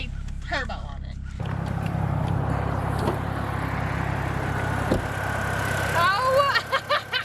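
A cold 2009 BMW 328 E90 with its muffler deleted idles with a deep, steady, fairly loud exhaust rumble. Voices talk over it at the start and again near the end.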